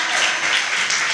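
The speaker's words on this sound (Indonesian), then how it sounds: "Boleh dong tepuk tangannya dulu untuk kita semua" An audience at a youth health dialogue event claps together in a brief burst of steady, fairly loud applause, with no voices over it.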